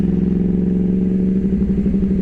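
A 2009 Yamaha R1 motorcycle ridden at night, its engine holding a loud, steady, throbbing hum close by, with no talking.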